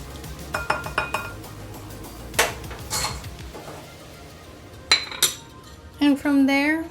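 A spoon clinks against a bowl as a mixture is stirred until dissolved while making Korean yaksik, with several scattered metallic taps and scrapes at low level, plus a brief rising chime near the end.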